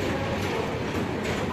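A passenger train at Katpadi Junction, hauled by a WAP-9 electric locomotive, passes with a continuous rolling rumble of wheels and carriages, heard at moderate distance without interruption.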